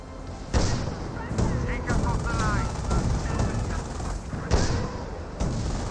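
Gunfire in Company of Heroes, a World War II strategy game: scattered rifle shots and short machine gun bursts crack over a busy battlefield din, with a few heavier thumps and a voice talking over them.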